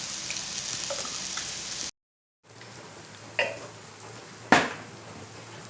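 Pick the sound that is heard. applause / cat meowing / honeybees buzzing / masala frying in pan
masala frying in pan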